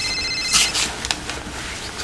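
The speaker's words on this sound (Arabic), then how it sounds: "تليفوني بيرن" A mobile phone ringing in a quiet room, with short bright bursts of ringtone over a faint background hiss and no talking.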